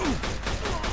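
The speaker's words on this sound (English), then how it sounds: "What asshole is shooting me?" Gunfire in the Mafia 2 video game, a dense burst of shots that fills the moment loudly and continuously.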